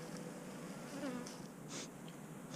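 Bees buzz around beehives, a faint steady droning swarm with individual insects flitting closer past, no voices.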